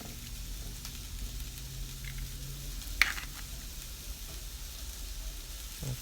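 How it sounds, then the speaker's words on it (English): Eggs sizzle in a pan while being scrambled hard: a faint, steady crackling hiss with a single soft clink of a utensil partway through. "So I am just gonna scramble my eggs."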